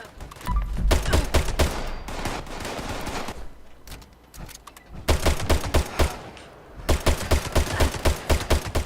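Rapid, loud shots from a Furious Crusader pistol in the video game Fallout 76, fired in three long fast bursts with a short pause between, each shot crisp and close with heavy low-end punch.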